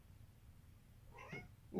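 A kitten gives a brief meow near the end of a quiet stretch, followed by the start of a second call, faint and close with low room hum.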